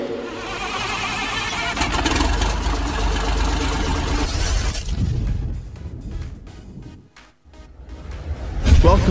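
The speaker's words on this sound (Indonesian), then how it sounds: "kita start dulu mesinnya guys" An engine being started while troubleshooting a fault where it won't crank or cranks slowly: a loud, dense mechanical roar for several seconds, then a rougher, uneven stretch that briefly dips almost to nothing before surging back.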